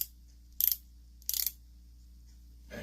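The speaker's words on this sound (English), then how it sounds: "the very first thing that I'm noticing is the ratcheting sound" A Stanley 16-piece passthrough socket set ratchet, part 89-933, gives two short bursts of rapid metallic clicks and then a faint later rattle, close by in a quiet room.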